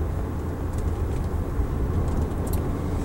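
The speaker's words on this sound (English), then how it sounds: "The engine's kind of cold, you can just hear direct injection just ticking away." A cold 2008 Lexus IS direct-injection engine idles with a low, steady rumble and a faint fast ticking beneath it, heard from inside the car with no talking.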